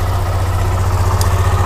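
A Hero Xtreme 125R motorcycle engine running in first gear on its stand, a steady, loud, low throbbing hum with no pauses and no talking.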